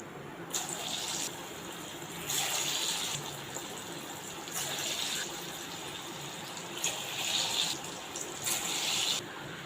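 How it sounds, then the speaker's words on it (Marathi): Potato and moong dal vadas sizzle in hot oil over a medium flame, a steady close frying hiss that swells in repeated bursts, with no voices. "आता इथे वडे आपण सोडलेले आहेत थोडे जास्त सोडलेले आहेत आता हे चांगले सेट होऊ द्यायचे आणि हे चांगले तळून घ्यायचे आहेत"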